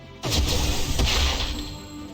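Destruction Cannon, a physical dark attack in Digimon Survive, lands as a heavy crashing smash with shattering debris, one sharp impact followed by a second hit and a rumbling tail.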